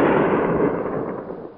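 .22 rimfire rifle fired with hollow-point ammunition while hunting rock rabbits on rocky ground, a single sharp report followed by a broad, fading rumble of echo, alone and fairly loud.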